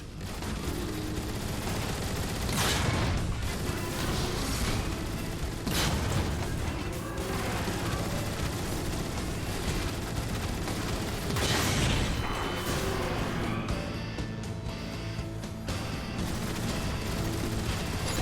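Weapon fire in Transformers: War for Cybertron, aimed at a large machine's legs, bursts of blaster and gun shots with mechanical clanks over a dense, loud battle din that continues throughout.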